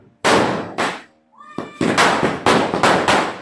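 Diwali firecrackers burst in a rapid series of loud, close bangs, each with a short crackling decay, with a brief gap and a voice before the bursts resume.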